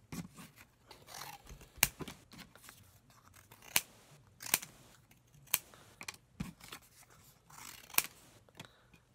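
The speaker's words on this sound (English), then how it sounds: "cut this into a few different sections and cut this bigger sections into smaller pieces" Scissors snipping cereal box cardboard into pieces, close and quiet: irregular sharp cuts with soft rustling and sliding of the card in between.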